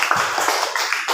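Audience clapping hands at a university event, a short, dense burst of overlapping claps filling the moment.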